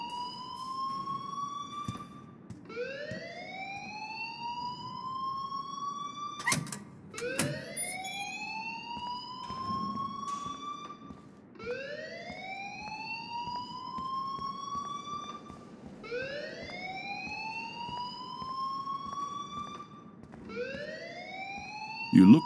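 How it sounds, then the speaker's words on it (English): Repeating electronic alarm in the video game Life Is Strange: rising whooping sweeps that recur about every two and a half seconds, steady and fairly loud over a low room hum, with a brief sharp clatter partway through. "please turn off that alarm since that's your job"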